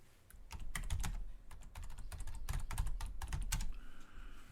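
Vi editor commands being typed on a computer keyboard, a fast close clatter of key presses in irregular bursts that stops near the end.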